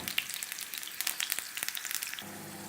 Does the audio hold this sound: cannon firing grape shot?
no